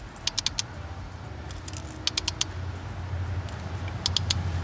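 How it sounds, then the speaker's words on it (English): Torque wrench set to 8 pounds clicking as it tightens a spark plug during a DIY replacement: three quick sets of sharp metallic clicks, each a rapid burst of two to four ticks, over a low steady hum. "take our torque wrench, put it at 8 pounds of torque, and then you're gonna hear your clicky click"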